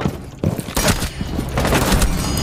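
Gunshots in a match of the video game Rainbow Six Siege: loud, dense bursts of rapid fire that start abruptly and keep hammering almost continuously, close and booming with a heavy low thud.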